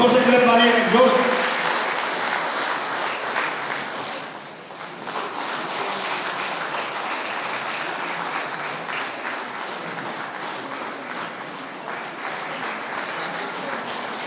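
Loud, sustained clapping from an audience welcoming a guest at a trade union federation gathering in Pasighat, Arunachal Pradesh, dense and continuous throughout with a brief dip midway, and a voice talking over it.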